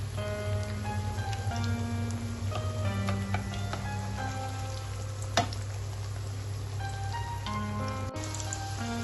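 A stuffed coin paratha with tofu and sweet potato filling cooks in a pan over a medium flame, giving a soft, steady sizzle with scattered small crackles and one sharper tap, no talking.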